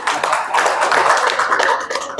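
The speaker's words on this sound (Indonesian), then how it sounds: "Tepuk tangan dong." Attendees at an organization's meeting in Indonesia clap together, a brief burst of close, brisk applause with overlapping hand claps that fades slightly near the end.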